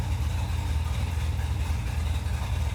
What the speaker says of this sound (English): Idling about 1300. Yeah, she's gonna be a high idler.